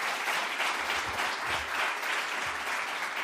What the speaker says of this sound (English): I would propose to make a big applause to all the speakers.